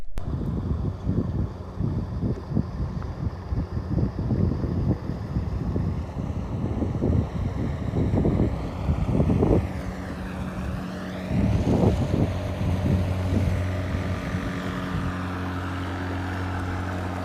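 Motorboat engine droning as it passes on a lake at a mountain resort, a steady near hum with wind buffeting the microphone and rhythmic bursts of low rumble as waves rock the small wooden boat.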